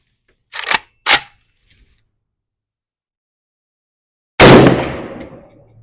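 A Zastava M70 ZPAP AK-47 rifle fitted with a muzzle brake fires outdoors: two quick sharp shots, a pause, then one loud blast that rings out and decays into echo.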